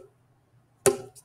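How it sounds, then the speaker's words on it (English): A long red plastic boomwhacker tube is struck once, making a short, hollow thump that decays quickly after a moment of near silence. "This is a really long red boomwhacker"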